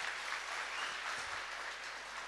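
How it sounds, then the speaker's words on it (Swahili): A seated audience claps for panelists at a community event on national cohesion in Kibra, a steady wash of moderate applause heard from within the room and holding level throughout. "Tuwapigie makofi angalau."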